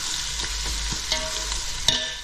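Ginger and garlic sizzling in a hot pan for chicken biryani, a steady loud frying hiss with a few scraping stirs of a spoon, no voices.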